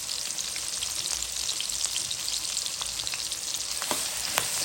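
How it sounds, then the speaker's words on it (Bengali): Onions fry in a pan with a constant close sizzle, dotted with sharp crackles and pops throughout. "পেঁয়াজটা একটু ভাজা হোক"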